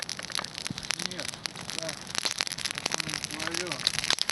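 An outdoor campfire crackles at the end of winter, with a steady scatter of small pops and snaps close by and faint chirp-like tones in the background.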